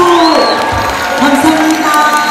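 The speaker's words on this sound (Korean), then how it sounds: "자, 박수!" An audience claps for a singer arriving on stage at a cultural troupe performance at a subway station, a short burst of crowd applause with some cheering mixed in.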